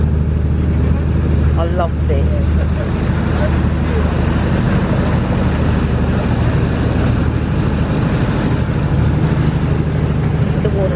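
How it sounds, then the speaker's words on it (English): A boat's engine rumbles steadily as it turns round on the River Dart at Dartmouth, close and loud with wind buffeting, and a person speaks briefly over it. "This is where the boat turns round."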